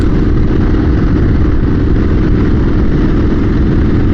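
Triumph motorcycle engine under way on the road, a loud, continuous low drone with rough texture and steady level throughout, heard close and alone.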